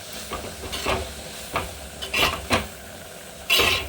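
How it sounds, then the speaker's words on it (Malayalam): Prawn roast being stirred and sautéed in a pan, quiet sizzling under a few distinct scrapes of a spoon against the pan, no talking. "ഇനി ഇത് നന്നായി വഴറ്റിയെടുക്കുക കേട്ടോ."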